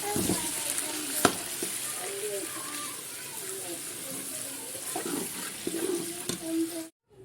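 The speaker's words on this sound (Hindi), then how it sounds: "अब इसमें चिकन के साथ इसको हम थोड़ी सी देर फ्राई करेंगे" Chicken frying in a pan with spices for a large batch of spicy degi chicken pulao, a steady close sizzle with occasional stirring clinks and soft scraping throughout, cutting off abruptly at the end.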